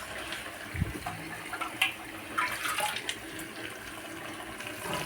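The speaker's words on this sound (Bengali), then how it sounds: "এখন কিন্তু আমি তার মধ্যে জল দিয়ে দিব।" Water splashes into a pan of braised beef, giving a soft uneven pouring and bubbling with a couple of light knocks, faint and without voices.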